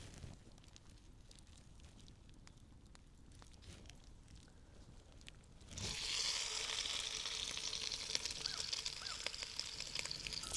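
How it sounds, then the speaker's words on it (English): Pork sausage hits hot oil in a Dutch oven at a mountain man camp breakfast, breaking into a loud, steady sizzle after a quieter stretch of handling noises, and frying continuously up close. "Now I'm going to take and break down this pork sausage and get it cooking."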